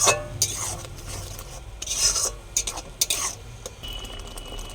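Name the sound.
fish curry being stirred and sautéed in a pan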